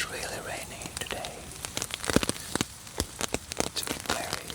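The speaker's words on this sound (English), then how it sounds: "It's really rainy today." Rain falling outside on a wet day in a forest setting, a dense patter of drops with sharp close ticks and splashes scattered over a soft steady hiss.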